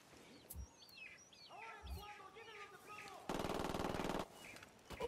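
A burst of machine gun fire in Ghost Recon Wildlands, a sharp rapid stream lasting about a second, loud and close, after a quiet stretch of birdsong and a couple of single shots.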